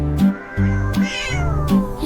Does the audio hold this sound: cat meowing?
yes